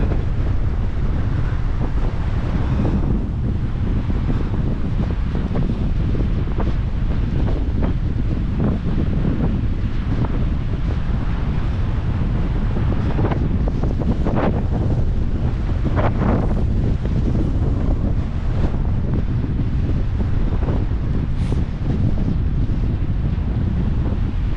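Strong, steady wind roars across the open coast at Cockersand Abbey on a cold day, buffeting the microphone with constant low rumble and gusts, with the faint wash of surf beneath and no talking.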